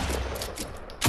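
Video game gunfire, bursts of rapid shots rattling steadily before a louder, heavier blast hits at the very end, with no one talking.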